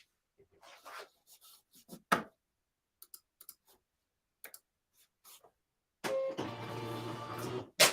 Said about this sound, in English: Plug in your printer. It works freaking way better.